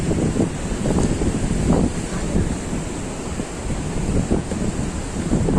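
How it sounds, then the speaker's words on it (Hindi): Large ocean waves crash and roll continuously on a beach in Goa, loud and close, with heavy wind buffeting the microphone throughout. "वो देख रहे हो कितनी बड़ी बड़ी लहरें हैं वहाँ पे"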